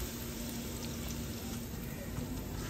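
Onions browning in a pan over a wood fire, a steady, even sizzle of frying that holds at a constant moderate level throughout.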